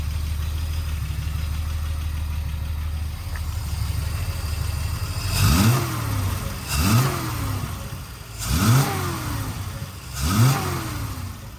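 Triumph TR250 engine, warmed to operating temperature, blips up four times from a steady idle, each rev rising sharply and falling back in an even rhythm, loud and close with no talking.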